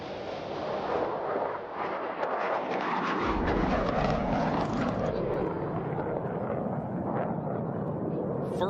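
F-16 Fighting Falcon jets roll for takeoff at an airshow, a loud broad jet roar building and swelling after a few seconds into a sustained thunderous rush; a voice talks faintly beneath it.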